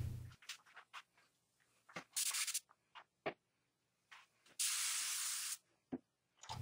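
A spray gun fed by an air compressor applies epoxy clear coat to knives, giving short loud hissing bursts between quiet gaps and scattered clicks.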